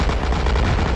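Rapid gunfire from the Gangsta Bean video game, a dense continuous burst of shots filling the whole second, loud and up close with no talking.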